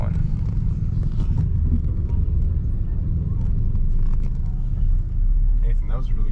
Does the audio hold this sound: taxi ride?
yes